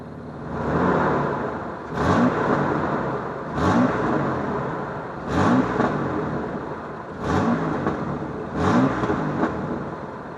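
A 1994 Dodge Dakota pickup truck engine revs five times in regular bursts, each rise sharp and loud, with a steady rumbling idle between the revs.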